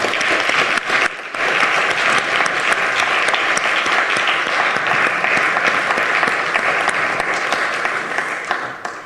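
An audience at a lecture on ecology and social struggles claps steadily for about nine seconds, a dense, even wash of applause at moderate distance that tapers slightly at the end.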